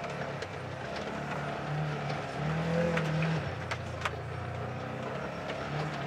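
An off-road vehicle crawls over rocks in low gear at steady throttle, its engine a constant low drone that swells slightly midway, with occasional faint knocks and scrapes from the terrain.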